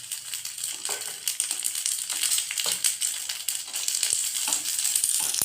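Steady hot sizzling and crackling of grated coconut frying in ghee, close up, with occasional scraping stirs and small pops throughout.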